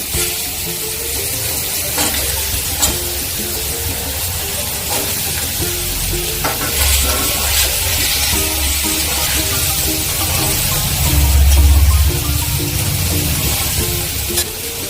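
Mixed vegetables for Bengali sukto sizzle in a wok after the fried spices and dried chillies. The frying hiss is steady and close, with occasional stirring clatter and a low rumble that swells briefly near the end.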